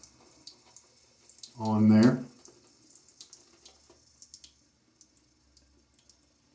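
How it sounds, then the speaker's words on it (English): A tap dribbles water onto shaving soap in a mug, one brief, close half-second splash amid faint clicks and handling noises, with a few words spoken. "if it does start to not feel super hydrated, then dribble some water"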